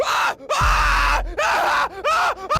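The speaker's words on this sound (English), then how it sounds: "is that the sound of a zombie burning to death?" A zombie from the video game Dying Light The Beast shrieks while burning to death, loud agonized screams and groans in several harsh bursts with brief gaps.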